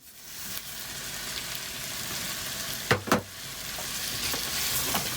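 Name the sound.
tomatoes and rice frying and stirred with vegetables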